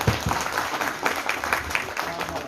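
A crowd applauds at an honour ceremony at Rajiv Bhawan, a dense burst of clapping at moderate level that begins sharply and carries on steadily while someone speaks over it.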